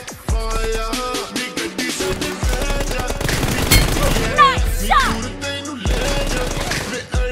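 Rapid bursts of gunfire from a 1v1 team deathmatch shooting game ring out loud and close, chattering in repeated volleys over a busy game soundtrack, with brief pauses between bursts.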